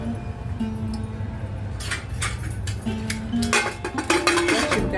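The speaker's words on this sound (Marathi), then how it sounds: "आता कुकरमध्ये मी डबा ठेवते।" A metal container set down inside a pressure cooker while cooking Hyderabadi dalcha rice, giving several close clinks and clatters of metal on metal that grow busier toward the end over low kitchen noise.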